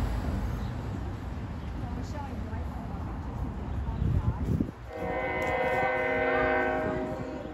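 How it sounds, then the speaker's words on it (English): A loud train passes close by on a city street outside a restaurant, first as a heavy rumble and then with a sustained blaring horn that swells toward the end. People talk over part of it. "It's a loud train."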